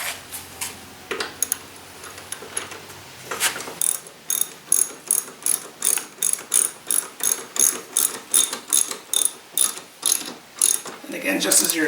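A hand ratchet clicks rapidly and evenly while tightening the blade bolt on a Briggs & Stratton lawn mower, close and loud, with a few irregular clicks first and then a long run of regular strokes.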